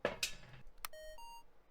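Two short electronic beeps from a tier 3 sound sensor in the video game Phasmophobia, each a bright tone with a small follow-up, faint and alone.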